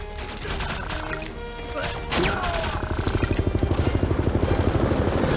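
Helicopter in the Wii video game Disaster: Day of Crisis, arriving after a loud crash, then a near, rapid rotor chop that pulses steadily and grows dominant over a busy action soundscape.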